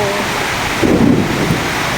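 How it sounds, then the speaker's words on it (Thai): Thunder rumbles low and broad beneath steady heavy rain pouring outside a car repair garage, the downpour hissing loudly and constantly from start to finish. "คู่ฟ้าร้อง"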